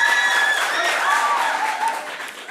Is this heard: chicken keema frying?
no